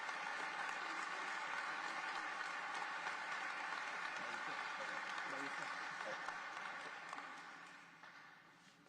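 Sustained crowd applause at a swearing-in ceremony for Atlanta's new Chief of Police, steady and full for several seconds before tapering off toward the end.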